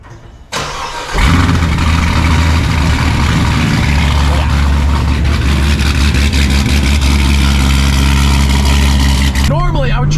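A car engine starts up and runs at a burnout pit on a chilly day, holding a loud, steady roar close by for about eight seconds before dropping away, with brief talk at the end.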